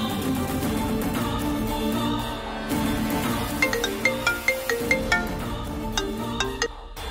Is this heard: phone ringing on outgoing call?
yes